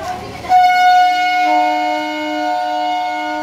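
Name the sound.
up train passing near temple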